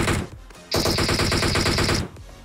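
Automatic gunfire in the mobile battle-royale game PUBG Mobile: a short shot, a pause, then a loud sustained stream of rapid rounds lasting over a second, with no talk over it.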